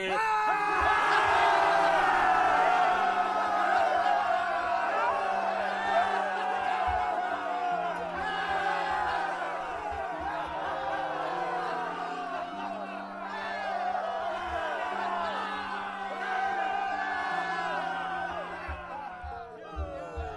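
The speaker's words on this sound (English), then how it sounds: "The crowd goes wild for you guys and gals." A crowd-cheering sound effect plays: a large crowd yelling and whooping in a sustained roar, loud and continuous, easing slightly near the end.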